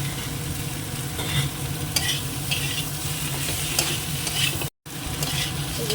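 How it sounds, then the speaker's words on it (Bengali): Potatoes with poppy seeds frying in a pan, a steady close sizzle with occasional stirring scrapes running throughout. "আলুটা দিয়ে একটু কষিয়ে নেবো"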